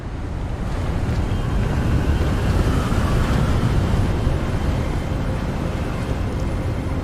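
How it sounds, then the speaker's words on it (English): Gusty wind blows steadily in the Hogwarts Legacy video game, a loud, continuous rushing roar that stays full and unbroken for the whole stretch with no voices over it. "Very windy."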